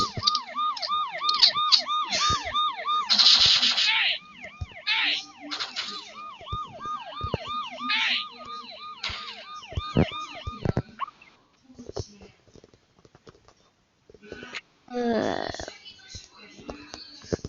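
A wailing police siren in a video game cycles rapidly and steadily, loud and electronic, then cuts out, leaving scattered clicks and brief bursts of noise.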